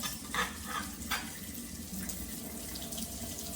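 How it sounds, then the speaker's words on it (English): Tap water runs steadily through a makeshift strainer while rice is rinsed in a kitchen sink, a soft continuous splash with a few brief brighter spatters of water hitting grains and metal. "Rinse that rice off."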